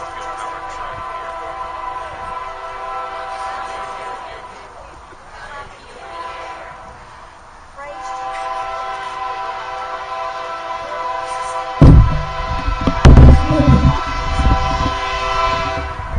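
Fossil-fuel-powered train rolling past a prayer gathering, a steady rumble with sustained horn tones throughout, swelling louder with heavy low-end bursts near the end; a voice speaks briefly over it.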